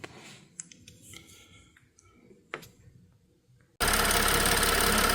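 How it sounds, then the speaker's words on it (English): A 2016 BMW X5 engine fires up after a spark plug replacement, with quiet clicks and handling noises before a sudden loud, steady roar of running engine noise that continues to the end. "Just started the engine and everything is running fine."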